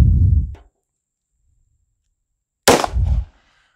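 A pistol firing Winchester 125 grain jacketed hollow point rounds gives two loud, sharp reports, the first cut off at the start and the second nearly three seconds later, with silence between.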